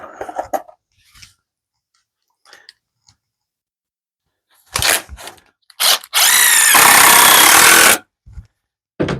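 Screws driven in with a power drill during a glue-and-screw assembly job, heard as a few short whirring bursts and then one long, loud, steady drive near the end, with scattered clicks and handling noise between them.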